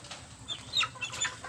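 A chicken gives a few soft, short clucks, close by and fairly quiet, with faint background noise.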